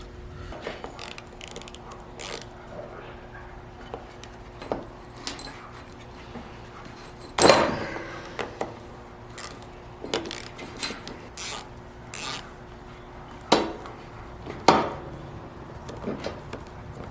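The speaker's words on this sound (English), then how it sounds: "Let's take this motor apart real quick." Disassembling the electric motor of a Warn M-series winch, with scattered metallic clicks, rasps and clunks of parts and tools being handled, including a few louder knocks, close by and without talk.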